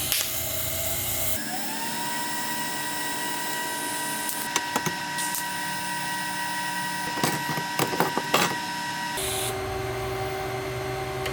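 A welder tacks a pie-cut turbo pipe for a turbo K24 Nissan Cefiro build, with a steady electrical whine and hum broken by brief crackling bursts and clicks near the middle of the run.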